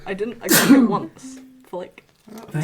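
A single sharp sneeze bursts out partway through casual talk among people playing a tabletop game, with speech before and after it.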